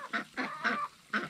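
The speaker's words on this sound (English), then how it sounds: "Look at our pretty ducks." Domestic ducks calling at a homestead duck pond, four loud honking quacks in an uneven rhythm, close by, with no talk over them.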